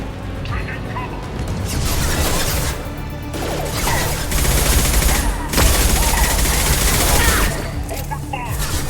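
Sustained bursts of rapid gunfire and crashing impacts from a Mass Effect 2 firefight, loud and continuous throughout with brief lulls, occasional booms and voices over the shooting.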